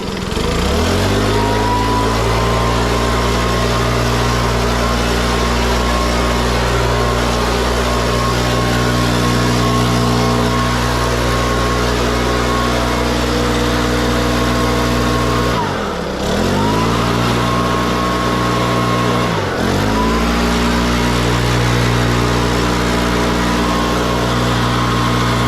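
A warm lawn mower engine runs steadily and loud in a garden, its tone dipping briefly twice as if under load before recovering, with no talk over it.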